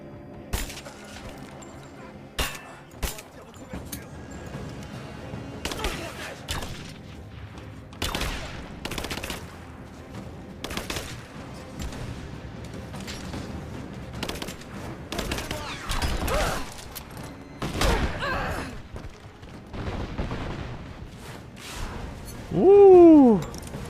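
Gunfire in the video game Rise of the Tomb Raider, scattered bursts of shots and rattling automatic fire spread across the scene, with game sound effects between volleys and a brief voice near the end.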